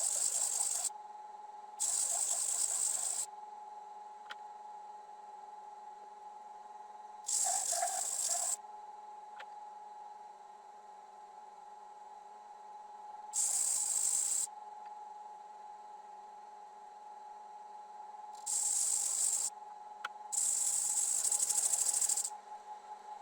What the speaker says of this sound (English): now I go ahead and sand away the marks